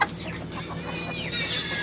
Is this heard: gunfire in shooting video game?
no